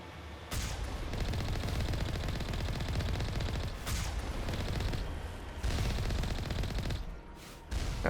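Sustained gunfire in the video game Mass Effect 1, loud and continuous rapid shots with brief lulls, heard alone without talk.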